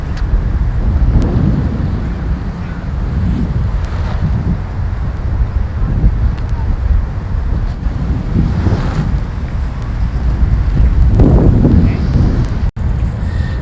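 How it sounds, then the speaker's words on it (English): Strong wind buffets the microphone outdoors at a kiteboarding session, a loud continuous rumbling roar with gusty surges and no voices. "We've got plenty of wind today"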